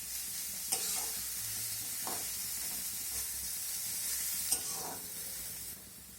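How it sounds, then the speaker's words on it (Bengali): Chopped onions fry in a pan over a medium gas flame, giving a soft, steady sizzle with a few light scrapes and clinks of stirring, faint and close, with no talking. "পেঁয়াজটাকেও এবার কিছুক্ষণ ভেজে নেব"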